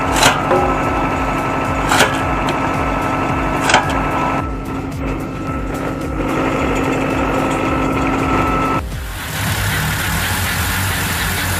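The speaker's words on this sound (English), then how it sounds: "Then comes a homemade cone splitter powered by a repurposed engine and a lot of practical grit." A homemade cone log splitter driven by a repurposed engine runs with a constant mechanical drone and a few sharp knocks, then the engine note drops and changes near the end.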